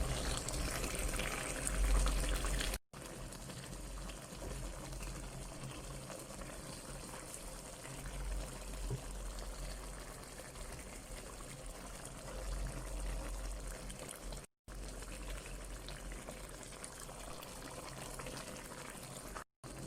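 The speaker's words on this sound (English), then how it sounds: "Close it, let it simmer for about a minute, and your crab is done." A pot of Durban-style crab curry simmers with a continuous low bubbling, watery churn that stays fairly even and moderately close, with brief cuts in the sound.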